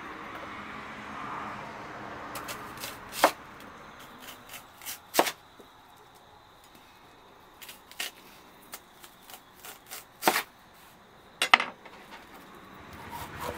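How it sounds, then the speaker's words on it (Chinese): A knife slicing an onion into rings on a cutting board for homemade pizza, giving sparse, sharp, close knocks at irregular intervals against a quiet room. "洋葱切圈儿"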